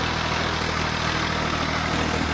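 Massey 240 tractor engine running steadily while pulling a loaded trolley, a constant low diesel drone with no breaks, close and fairly loud throughout.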